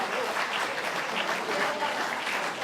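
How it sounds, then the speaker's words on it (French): A crowd applauds the grand master of a wine fraternity during a brotherhood parade, dense and continuous clapping that stays even and fairly loud throughout. "Allez, on l'applaudit, le grand maître."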